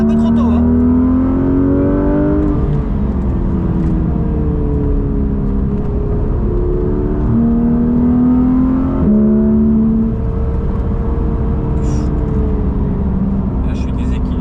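A Porsche 991.1 GT3 RS engine revs loudly and close on a racing circuit during a coaching session, its pitch climbing and falling through repeated acceleration pulls across gear changes.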